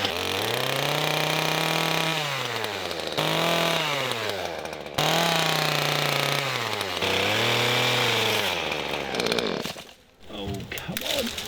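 A chainsaw roars loudly, its pitch rising and dipping through repeated revs as it bites into wood, then cuts out near the end.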